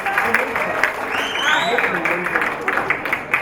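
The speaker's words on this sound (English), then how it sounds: "let's give another round of applause" An audience claps in steady, sustained applause while a voice speaks over it throughout.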